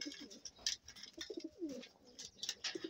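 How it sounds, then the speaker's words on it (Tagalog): Pigeons coo repeatedly in low, throaty bursts, fairly close, with rustling and faint chirps mixed in between the calls. "Ito ang ating mga kalapatids na ating mga ibon natin."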